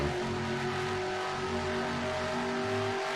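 Racing sim video game race car engine drones steadily at high revs, with a sustained tonal whine holding throughout and no talk over it.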